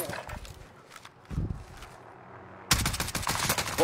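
Gunfire in Fortune's Keep, a Call of Duty Warzone map: a few sharp gunshot bursts, then dense sustained automatic fire near the end, loud and close with little talk over it.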